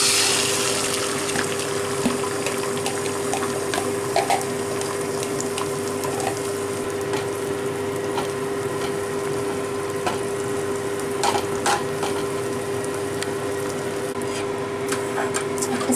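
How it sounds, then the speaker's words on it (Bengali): Beaten egg fries in hot mustard oil in a wok, giving a continuous close sizzle with faint crackles and a steady background hum, with no one talking. "তেলটা গরম হয়ে গেছে, আমি তেলটাকে একটু মাখিয়ে নিয়েছি কড়ায়। এবার আমি এতে ফ্যাটানো ডিমটাকে দিয়ে দেবো।"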